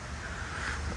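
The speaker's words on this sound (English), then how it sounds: "wind's kicking up" Wind blowing outdoors on a clear morning, a steady loud rumbling buffet against the microphone with no breaks and no voices.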